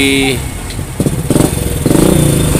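Honda Revo Fit motorcycle engine running rough after three piston replacements, a close, loud, uneven clattering idle with irregular pulses, heard alongside speech.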